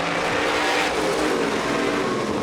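Supermodified race cars roar at full throttle as a six-lap heat race starts at Shasta Speedway, a dense, loud, continuous engine blare with no break and no talk.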